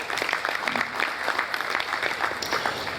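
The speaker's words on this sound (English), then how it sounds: "Round of applause for him once again." An audience at a business roundtable on construction applauds, a steady moderate patter of many hands clapping close by for the whole stretch.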